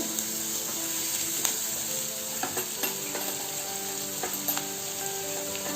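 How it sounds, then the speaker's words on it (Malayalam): Ginger garlic paste frying in a hot pan as a base for mutton samosa filling, a loud continuous sizzle with occasional sharp crackles and stirring clicks, no voices. "ജിഞ്ചർ ഗാർലിക് പേസ്റ്റ് ഇട്ട് കൊടുക്കുന്നുണ്ട്."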